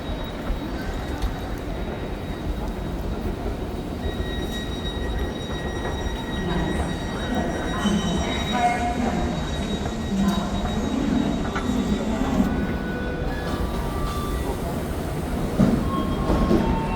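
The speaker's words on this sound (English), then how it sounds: "we're going to enter another train right now" A train in Berlin rumbles steadily along the rails, with wheels squealing and metallic clatter throughout.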